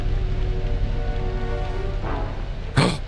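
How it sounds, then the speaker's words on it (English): Steady rain falling in a video game scene by a castle on a hill, a constant hiss throughout with a low droning tone beneath and a brief louder burst near the end. "Why is it always raining?"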